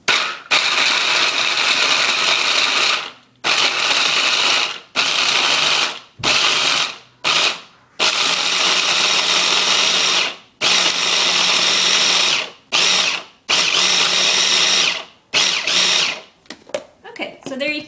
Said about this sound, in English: So we're starting with Brazil nuts, and I have them in a mini food processor